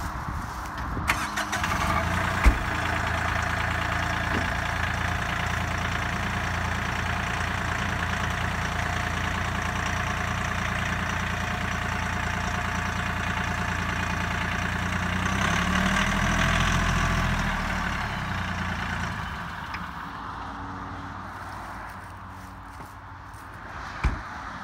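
Kioti CK3510 SE cab tractor engine running steadily at idle as the machine backs away after its front loader is detached, a constant low diesel rumble with a brief rise in pitch midway, no talk.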